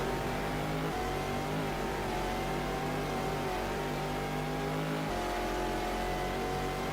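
A race car in an American Le Mans Series 2000 racing game at Sonoma holds a steady, loud engine drone. The revs shift with gear changes and the rear tyres spin. No voices are heard.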